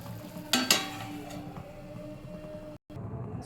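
Dried prawn and onion curry simmers in a pan with a soft, steady sizzle and bubbling. A couple of sharp clinks of utensils against the pan come early, and there is no talk.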